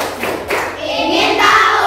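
Children perform a rhythmic concentration clap in a classroom, a few sharp hand claps and thumps in quick succession, with voices nearby.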